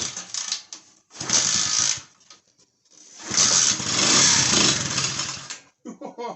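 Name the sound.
old neglected motorbike engine starting and briefly running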